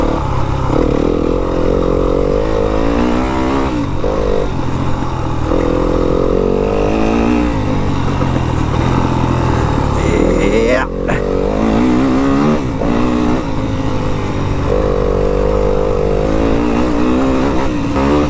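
A motorcycle engine revs and roars steadily and loud close by while the rider pops a wheelie, with a sharp clattering bang near the middle and talk faintly over the engine.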